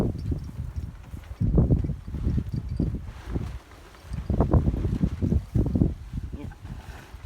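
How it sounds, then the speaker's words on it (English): Strong gusting wind blows outdoors on a very windy day while someone tries to build a teepee, roaring in loud surges with short lulls between gusts, close and buffeting. "It's a very windy day."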